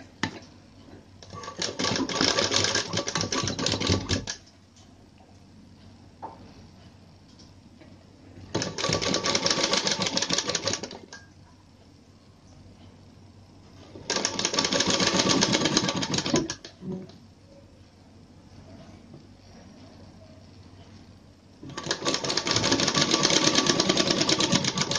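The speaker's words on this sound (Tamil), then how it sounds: "இந்த உள் பக்கத்தை நம்ம அப்படியே இதை சின்னதாக ஒரு ஃபோல்டு பண்ணி தைக்க போகிறோம்." A sewing machine stitches a small folded inner fabric edge on a paavadai sattai, running in four loud bursts of rapid mechanical whirring separated by quiet pauses.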